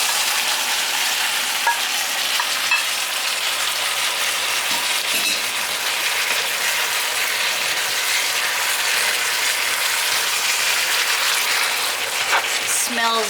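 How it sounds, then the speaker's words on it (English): Mushrooms added to a hot pan with vegetables for a pizza topping, a bright, steady sizzle close by with occasional clicks and stirring knocks throughout. "Gonna add the mushrooms"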